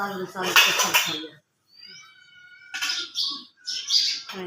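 Bright, high chirps from a house sparrow come in short bursts, fairly close, as it comes to drink water, with some clattering and a faint voice in the background.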